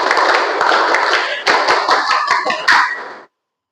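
A group of Pramuka scouts claps out the Tepuk Pramuka rhythm in unison: loud, close, patterned bursts of hand claps in quick runs with brief pauses, filling the room until they stop abruptly.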